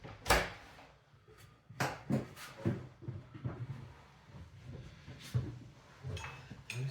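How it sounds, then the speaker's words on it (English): A door being opened indoors gives a few close, sharp clicks and knocks of the latch and frame, with softer rustles between them. "I'm going to open the door to improve my ventilation."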